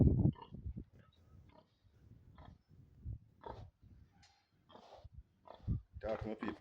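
Pigs on a Jamaican farm grunt and squeal in scattered bursts close by, mixed with someone talking over them.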